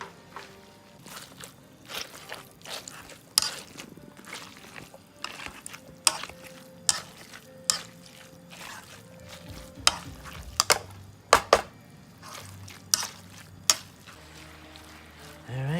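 Pork cooks in a pan with a low sizzle under repeated sharp clacks and scrapes of stirring, irregular and fairly close.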